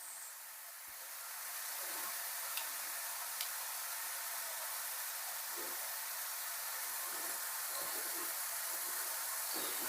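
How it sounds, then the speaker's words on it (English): Continuous sizzling and crackling from crumbled sausage frying in a pan, a steady hiss with occasional small pops and ticks throughout. "I'm just going to keep doing this and frying the sausage"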